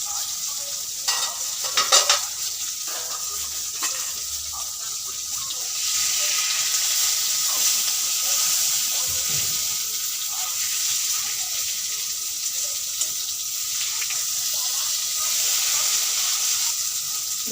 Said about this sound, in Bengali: আমি পাতাগুলোকে চিংড়ি মাছের পুর দিয়ে এইভাবে ভেজে নিচ্ছি